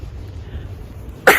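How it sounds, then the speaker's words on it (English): One sharp, loud sneeze bursts out at close range near the end, after a stretch of quiet indoor room noise. "Obviously, I'm gonna sneeze."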